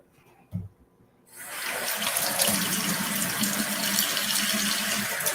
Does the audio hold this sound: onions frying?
no